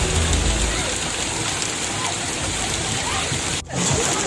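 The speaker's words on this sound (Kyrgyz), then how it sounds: "Анын арты нөшөрлүү жамгырга айланды." Heavy downpour following a hailstorm, a dense continuous hiss of rain striking surfaces, fairly loud and close, with a brief dip in level near the end.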